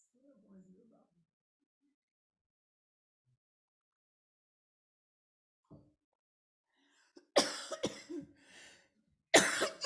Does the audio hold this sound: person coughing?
yes